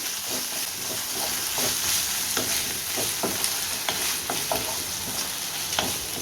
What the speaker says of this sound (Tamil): ஸ்டவ் வந்து லோ டு மீடியம் ஃப்ளேமில் வச்சு தக்காளி நல்லா சாஃப்டாக வதங்குற அளவுக்கு வதக்கி விட்டுக்கலாம்